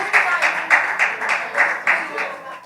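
A classroom audience at a youth and college forum in New York City bursts into applause, a steady patter of hand claps with rhythmic swells roughly every half second, moderately close and without talk over it.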